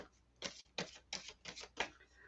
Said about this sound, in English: We're shuffling these babies and picking up energy around single Libras.